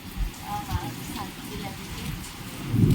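Rain pours steadily on a busy market street, a dense even patter with scattered low thumps and a distant hum, while voices talk faintly in the background.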